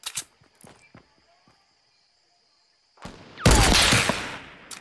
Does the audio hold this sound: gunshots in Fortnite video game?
yes